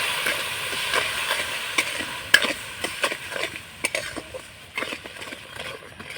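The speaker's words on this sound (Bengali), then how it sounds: "এবার চিনিটা নাড়াচাড়া করে গলিয়ে নেব" Spoon stirring sugar and a little water in a pan over heat for a raw mango pickle syrup, a series of irregular scraping clicks and taps against the pan over a faint background hiss.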